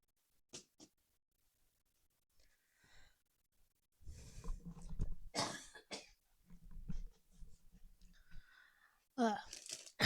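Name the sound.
coughing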